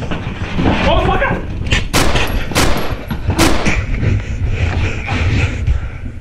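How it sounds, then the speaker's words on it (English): Several loud gunshots go off in quick, irregular succession during a police confrontation. Sharp booming bursts sit over shouting voices. "shots fired, shots fired"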